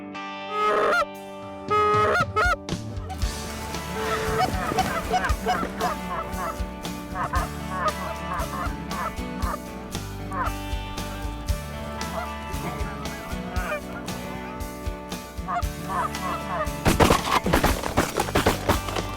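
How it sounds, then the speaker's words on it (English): Geese honking during a South Dakota waterfowl hunt, a dense chorus of repeated honks and calls over several seconds, fairly loud and continuous, with a few sharp gunshots near the end. "You ready to shoot some geese on the Flyway Highway?"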